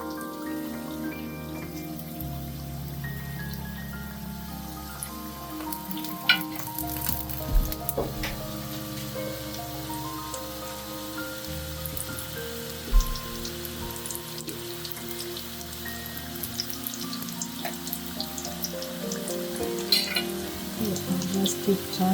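Beef samosas deep fry in hot oil, giving a steady close crackling sizzle with scattered louder pops and no talking.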